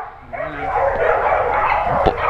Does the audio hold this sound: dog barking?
yes